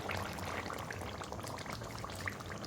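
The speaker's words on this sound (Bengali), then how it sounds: "এর মধ্যে আমি দিয়ে দিচ্ছি ফেটে রাখা হাফ কাপ টক দই।" Half a cup of whisked sour yogurt is poured into a pan of dhaba-style chicken masala with softened onions and tomato, giving a soft, faint wet splatter and gentle bubbling.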